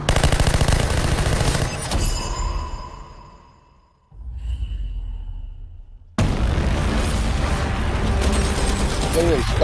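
Gunfire from a superhero movie trailer, loud bursts mixed with music and effects, dropping to near silence midway before a loud, dense barrage returns.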